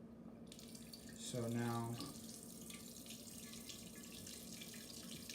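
Wort gushes from a kettle valve while brewing an American stout, a loud splashing pour that swells for about a second and then settles into a steady trickle, with a voice speaking briefly.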